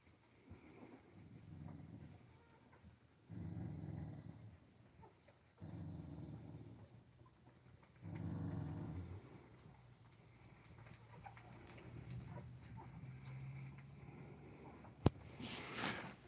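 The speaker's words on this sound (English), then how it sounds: "But you growling at her, huh, little big girl?" A dog growls in low, rumbling bursts, four or five separate grumbles a couple of seconds long with short pauses between, quiet and close, ending with a sharp click.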